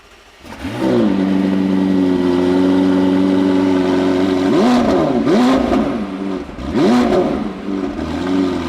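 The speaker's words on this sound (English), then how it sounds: "experience the cold start of this 4 litre twin turbo V8." A 4-litre twin-turbo V8 sports car fires up and holds a high, steady cold-start idle, then gives a few sharp revs that rise and fall, loud and close.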